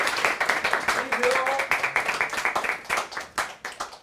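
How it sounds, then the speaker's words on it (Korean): Classroom clapping for a visiting teacher during a Korean science lesson: a burst of many hands applauding, fairly close and steady, with voices and laughter mixed underneath. "시간 주신 선생님한테 박수 부탁해."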